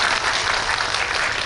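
Dense audience applause in a cinema hall during a film talk event with the director and actors, a loud, steady wash of many hands clapping together throughout.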